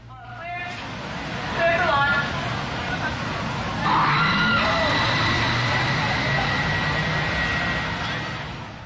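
A roller coaster train launched by linear induction motors gives off a rising, sustained high-pitched electric screech that builds and holds, heard at a distance over an outdoor crowd, with people talking and shouting throughout.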